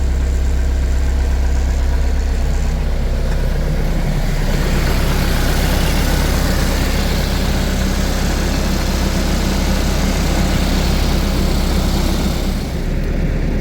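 DTZ 504 diesel tractor idling in winter, a steady, loud, rumbling engine drone with a constant low throb that runs unbroken and close for the whole stretch.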